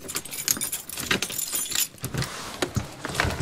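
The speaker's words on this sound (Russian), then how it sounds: "О, какой-то есть ключ." Keys jangle and clink close by in repeated bursts while someone gets settled into a newly bought room in a Moscow communal flat, with no talk over the sound.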